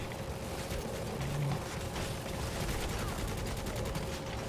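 Turret gunfire in the video game Necromunda: Hired Gun rattles in rapid, continuous bursts, moderately loud and steady across the whole stretch.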